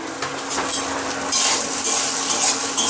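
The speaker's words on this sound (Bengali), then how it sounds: "সয়াবিন আমার ভাজা ভাজা হয়ে গেলো" Loud sizzling and crackling of soybean chunks frying in a pan, with scraping and clinking as a spatula stirs it; no voices.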